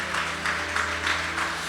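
A congregation applauds the Lord during a Spanish-language sermon, with a steady wash of many hands clapping together and a low hum running underneath, continuous and fairly loud throughout.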